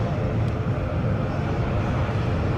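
Steady, loud roar of an ATR 72-600 turboprop airliner at Edinburgh airport, a continuous broadband engine and propeller drone heard close by without talk.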